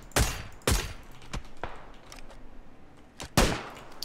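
Gunfire in the battle royale game PUBG, several loud separate shots cracking out at irregular gaps, close by, with no talk over them.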